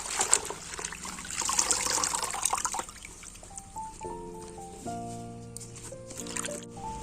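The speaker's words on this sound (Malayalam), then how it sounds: "2 പ്രാവശ്യം വെള്ളം മാറ്റി ഒന്ന് കഴുകി ക്ലീനാക്കി എടുക്കാം." Tap water trickling and splashing while spinach is rinsed in a vessel, a steady running sound for the first few seconds, then quieter dribbling under a soft musical background.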